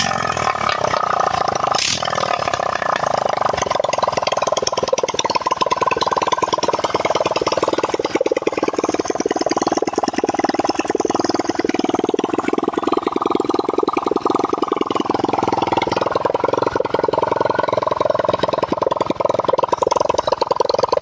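A Barako 175 motorcycle engine running after a top overhaul on a makeshift temporary fuel supply, steady and loud with a raspy, clattering tone that holds unbroken throughout.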